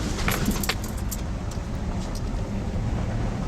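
Pickup truck driving on a rough, storm-damaged rural road, a continuous low engine and tire rumble with scattered rattles and clunks from the bumpy surface, close and steady throughout, no talking.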